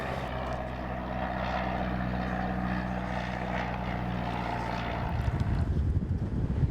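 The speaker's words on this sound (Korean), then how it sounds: "잠시 후 주민들의 말처럼 작은 비행기가 요란한 소리를 내며 등장했습니다" Small light propeller aircraft flying over a quiet village near a university airfield, its engine droning loud and steady before a louder rumbling swell as it passes close overhead.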